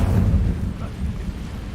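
Incendio, a fire spell in Hogwarts Legacy, rumbles as a brief, low roaring blast of flame, dense and muffled, fading slightly over under two seconds.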